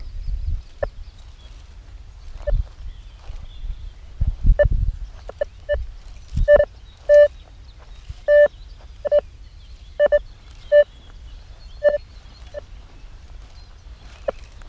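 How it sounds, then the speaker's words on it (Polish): A metal detector set to factory ground balance gives scattered short electronic beeps and chirps, irregular and faint at first, then coming more often, mixed with low rustling and thumps from walking along a path. "wykrywacz mam ustawiony na grunt fabryczny minus 187 i jeżeli idziemy w ścieżce to zauważymy, że będzie dużo fałszywych sygnałów, trzasków"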